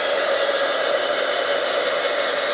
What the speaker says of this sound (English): I'm going to be using the heat tool to speed up the drying process here